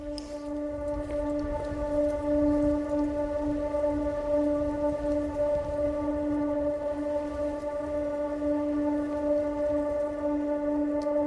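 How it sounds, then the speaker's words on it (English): A rain shower falls on an open hiking trail on the Isle of Skye, with a steady close hiss and a constant tonal hum underneath, unbroken for the whole stretch and with no voices. "First rain shower."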